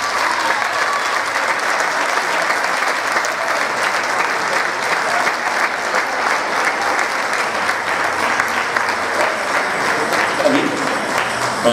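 An audience at a talent show's awards and closing ceremony claps in a dense, steady burst of applause lasting over ten seconds, loud and continuous with a murmur of crowd noise beneath.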